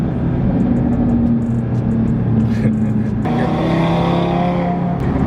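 An Audi RS3 running E85 fuel accelerates with a loud, steady engine drone and rumble heard close up, its pitch shifting as it gains speed, with faint clicks and small noises inside the cabin.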